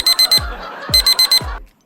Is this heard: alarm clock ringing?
yes